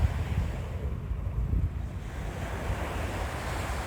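Ocean waves roll onto a beach in a continuous, full wash of surf, with wind buffeting the microphone throughout and no voices.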